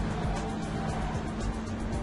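A rival car engine in the racing video game German Street Racing drones steadily with a fluctuating whine, running close behind, constant and fairly loud.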